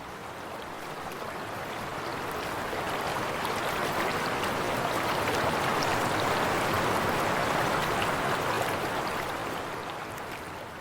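Rushing water from Chicago Creek waterfalls in Colorado roars steadily, a broad wash of noise that swells in and fades slowly at the end.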